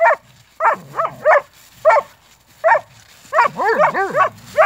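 Close, loud barking and yelping from a dog indoors, coming in quick uneven bursts with some whiny, rising tones between barks.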